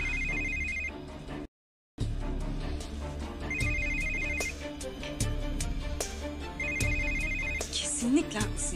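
A telephone ringing with a repeating electronic ringtone pattern, three bursts roughly three seconds apart, heard in a TV drama scene over background music and ambience.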